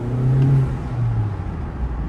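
The engine of a 2024 Honda Accord EX revs up in a short pull, climbs in pitch, then eases off into a lower hum, close and moderately loud with no voices.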